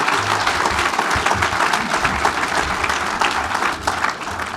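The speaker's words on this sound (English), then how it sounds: "A big round of applause for Bernard" An audience applauds a speaker, Bernard Salt, after his talk, a dense, steady roar of many hands clapping together throughout, with no talk over it.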